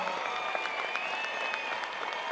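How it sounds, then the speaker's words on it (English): Steady, dense standing applause from a large crowd at a high school graduation ceremony, continuous and even throughout with no pauses. "please stand right now and give them a thunderous round of applause"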